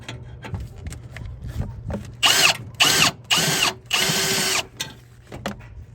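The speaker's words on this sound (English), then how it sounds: "Now that I make a small hole, I can always go bigger with my other tool." A power tool bores out a hole in a metal battery tray for a Honda Element or CR-V, giving four loud, close grinding bursts of a second or less, separated by short pauses, over a low background hum.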